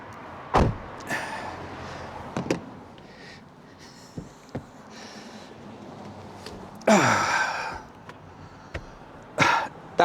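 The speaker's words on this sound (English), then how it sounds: "Close the door." A door on a micro camper van is pulled shut, giving sharp knocks and a rattling slam midway, with a few lighter bumps and clicks around it in a quiet interior.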